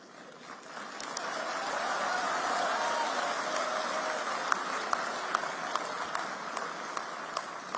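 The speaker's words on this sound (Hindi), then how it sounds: "तो जितनी वहां समझ थी उतने हिसाब से तालियां बजी" Audience applause fills an auditorium at an international startup gathering, a broad, steady wash of many hands clapping that swells after the first second and holds, with scattered sharper claps standing out near the end.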